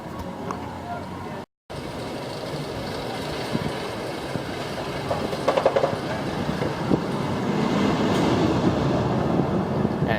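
An Intamin roller coaster train at Six Flags America roars along its track in a continuous, loud rumble with clattering wheel noise that builds toward the end, under faint rider voices.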